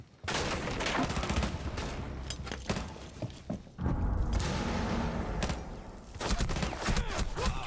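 Bursts of video game gunfire crack repeatedly in dense, loud volleys with a short pause near the middle, the shots close and continuous over a busy battle din.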